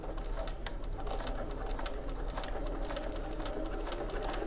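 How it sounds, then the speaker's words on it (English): A sewing machine with a Microtex needle stitches steadily around the edge of oilcloth, a close, even mechanical whirr with rapid needle ticks throughout, no voices. "I'm going to sew around the edge."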